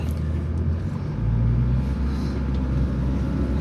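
A Nissan Be-1 small car drives along in a low, steady engine and road rumble from inside the cabin, fairly loud and continuous, with a faint hum rising slightly partway through.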